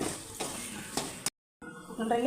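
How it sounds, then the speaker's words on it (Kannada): Spices tempering in hot oil for a homemade citron pickle, giving a steady close sizzle with stirring scrapes, broken by a brief silent gap before the frying resumes louder. "ಅದನ್ನು ಕೂಡ ಒಗ್ಗರಣೆ ಸ್ವಲ್ಪ ಫ್ರೈ ಮಾಡ್ಕೊಳ್ಬೇಕು ಸ್ಮೆಲ್ ಹೋಗ ತನಕ"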